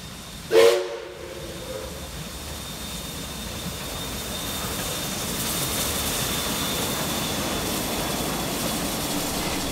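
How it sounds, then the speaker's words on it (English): Heritage steam locomotive 5917 runs through Hurstville station at night on platform 1, bound for Tempe. A short loud whistle blast comes first, followed by a steady rumble and hiss as the train rolls past and keeps going. "We return to Alawa later that night as 5917 makes its way back to Tempe"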